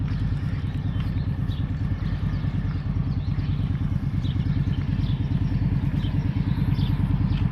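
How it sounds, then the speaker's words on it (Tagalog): A motorcycle engine runs steadily close by on a street near a restaurant in New Zealand, a loud continuous low rumble with clattering texture that holds level throughout, with no talk over it. "may motor doon, no?"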